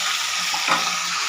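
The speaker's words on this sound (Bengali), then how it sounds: "মাছ ভাজা হয়ে গেল" Pomfret fish frying in hot oil in a pan gives a loud, steady sizzle that runs unbroken for a moment, with one brief flare near the middle.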